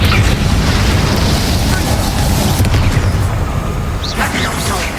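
A loud, dense burst of fiery rumble and crackle from the Incendio fire spell in the Hogwarts Legacy video game, sustained for several seconds with a booming low end.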